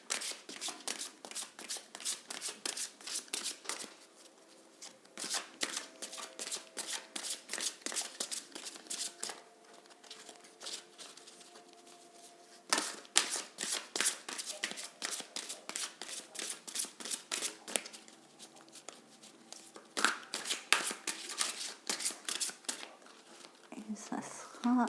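Oracle cards are shuffled by hand in repeated bursts of quick, crisp riffling and flicking, close and fairly quiet, with brief pauses between rounds and no talking over them.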